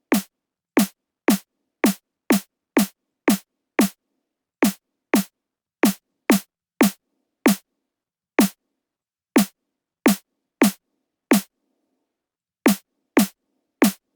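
A compressed snare drum synthesized in Serum 2 hits again and again as sharp, punchy single strikes, mostly in quick regular runs broken by short pauses, loud and dry with nothing else beneath them.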